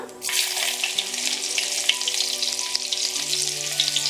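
Chopped shallots and mustard seeds fry in hot oil for a Kerala drumstick-leaf curry, a steady loud crackling sizzle that jumps up right after they go in and holds dense and close throughout with no talking.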